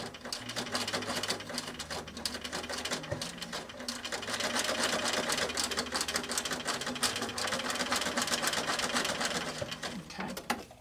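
A sewing machine stitches through embossed leather scraps in steady rapid runs, a busy mechanical clatter that pauses briefly and restarts, fairly quiet and close.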